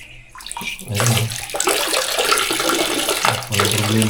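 Water runs steadily from a tap in a campground bathroom at Camp Reyna, Majayjay, Laguna, a loud close gushing that surges in after a quiet start and continues without letup.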